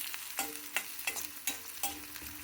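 Onions, green chillies and tempering spices fry in hot oil for a Bangalore brinjal fry, giving a soft continuous sizzle broken by a handful of stirring scrapes and clinks at a roughly even pace, with no talking.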